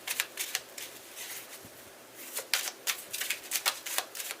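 A tarot card deck being shuffled by hand, giving bursts of crisp riffling and slapping card noise in an irregular rhythm, close and fairly quiet with no talking over it.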